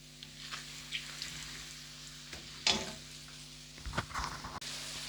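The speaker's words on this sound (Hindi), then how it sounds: "हमारा ज़ीरा, लौंगे, काली मिर्चें और बड़ी इलायची फ्राई हो चुके हैं तेल में" Cumin, cloves, black peppercorns and black cardamom fry in hot oil with a steady soft sizzle, broken by a few louder crackles and stirring clatters close by.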